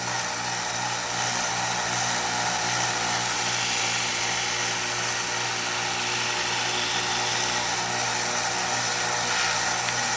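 A Harbor Freight 1x30 belt sander runs steadily while a knife is sharpened, giving a loud, continuous hissing grind over a motor hum that lasts the whole time.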